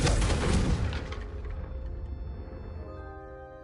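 The Confringo fire spell blasting in Hogwarts Legacy, a loud booming burst that rolls into a long fading rumble with a faint ringing tail, alone without speech.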